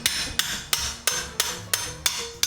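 Eight sharp, evenly spaced hammer blows ring out close and loud, driving a star nut down into the freshly cut steerer tube of a bicycle fork on a fixed gear commuter build, each strike followed by a brief metallic ring.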